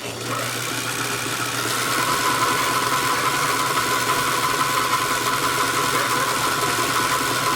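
A household sewing machine runs steadily and close, its motor whirring in an even hum throughout with no pauses, and the tone stays constant from start to finish.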